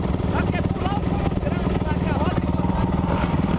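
Kawasaki KX250F dirt bike engine revving and accelerating at a track, a loud continuous buzzing drone with rising pitch sweeps, and people talking over it.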